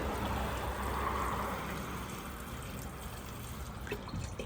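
Steady water pouring from a Chapin 2-gallon Tru-Stream watering can in a continuous stream, fairly close, with a broad splashing hiss that eases slightly toward the end. No voices.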